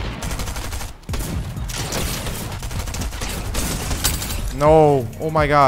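Rapid drum shotgun fire in the Fortnite video game, a dense burst of repeated blasts and impacts, with a person exclaiming loudly over the gunfire near the end.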